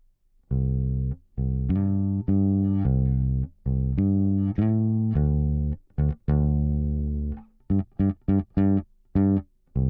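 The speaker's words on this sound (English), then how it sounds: "I've just followed the chord progression with my bass guitar" Electric bass played direct-in, following a chord progression cleanly, a steady run of sustained tones with brief gaps, then quicker short plucked notes near the end; no voices.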